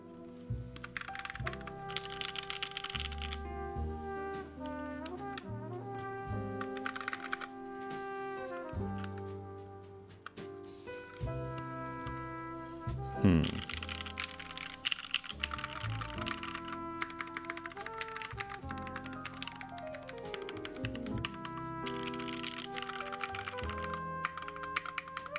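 Rapid key clacks from a Kei R2 mechanical keyboard, just rebuilt with its keycaps put back on, run steadily for about 25 seconds under continuous tonal background music.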